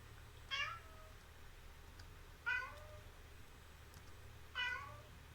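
A cat meows three times, each cry short and spaced about two seconds apart. The cries are fairly quiet against a soft, low background hum.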